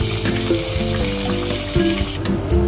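Cut potatoes and whole cumin seeds frying in mustard oil: a steady, close sizzling hiss throughout with sustained tonal sounds in the background.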